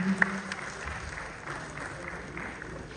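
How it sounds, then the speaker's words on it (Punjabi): An audience claps at a Punjab state teacher award ceremony, a brief, faint spatter of applause that sounds somewhat distant and thin. "ਜ਼ੋਰਦਾਰ ਤਾੜੀਆਂ ਜੀ ਉਹਨਾਂ ਲਈ"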